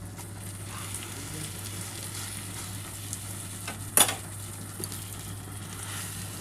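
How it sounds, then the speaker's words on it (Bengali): Roti frying in butter in a hot pan, a steady soft sizzle running throughout with a brief louder clatter partway through, near and alone without talk. "একটুখানি ওপর থেকে বাটার দিয়ে একটু হালকা করে ভেজে নিলাম"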